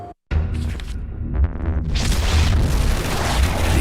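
A video game explosion from a TV commercial for inFAMOUS: a deep booming blast that swells into a sustained roaring rumble with crackling debris, loud and close, following a brief cut to silence.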